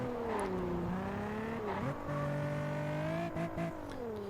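A car's engine whines in Test Drive Unlimited on roads with intersections, holding a steady tone with pitch drops at gear shifts and brief dips, loud and continuous with a faint tire squeal.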